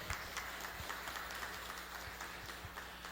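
Applause from the audience at a public hearing on the third-quadrimester report, a steady patter of many hands clapping at moderate, distant level, sustained throughout with no speech.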